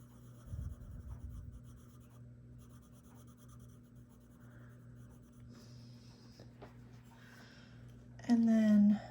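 A coloured pencil scratches and rubs across paper, shading a cartoon pool-party drawing in soft repeated strokes close to the microphone, with a brief murmured voice near the end.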